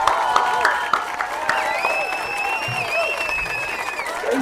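Audience applause and cheering welcoming US President Donald Trump on stage, dense steady clapping from a crowd mixed with voices and music throughout.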